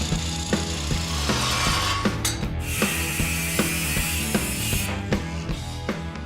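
A custom car exhaust pipe is cut off at the end in a garage, giving a steady rasping, ratcheting cut with regular strokes, close and loud, no talk.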